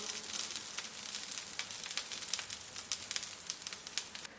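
A scallion pancake fries in a covered pan with a soft, steady sizzle and scattered crackling pops throughout, fairly quiet and close, with no voices.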